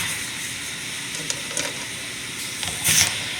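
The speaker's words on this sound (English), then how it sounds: "You can hear that sizzling sound, so we're heating up the water." Hot stones dropped into water hiss and sizzle as they heat it, a steady close hiss with a few brief sharper crackles and a louder sizzling burst near the end, no talking.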